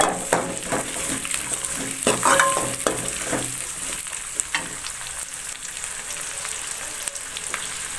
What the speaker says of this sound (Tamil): இப்போ வந்து வெங்காயம் வந்து நல்லாவே வதங்கிடுச்சு ஓரளவுக்கு